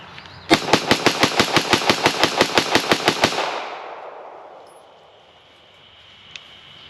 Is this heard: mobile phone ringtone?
no